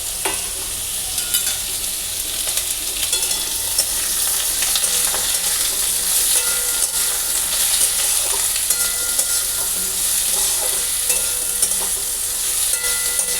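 Small pieces of fresh mango dropped into hot oil with panch phoron for chutney, a loud, steady, unbroken sizzle close up, with faint stirring crackles throughout.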